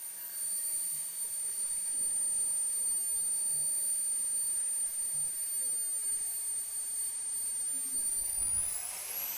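A Swiwin SW220B micro turbine jet engine holds a loud, steady whine with a high piercing tone that rises sharply near the end as it spools from idle toward full throttle, with no voices.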